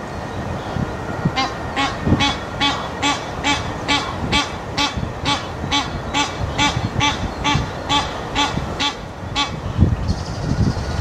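Two geese honk in a rapid, regular series of loud nasal calls, about a dozen in a row, over outdoor background noise in the Krayer Volksgarten park in Essen, Germany.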